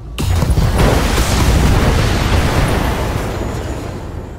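Mech weapons firing and exploding in the video game BattleTech, a loud, sustained roaring blast that rises sharply and rumbles on before slowly fading.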